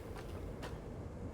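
A train in the video game Satisfactory rumbles along steadily, a broad continuous roar with a couple of brief louder whooshes, with no talking.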